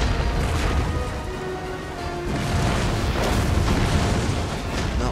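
Rocket troops firing in a Napoleon: Total War battle, a dense wall of booming explosions and bursts rolling continuously at full loudness, with no pauses between blasts.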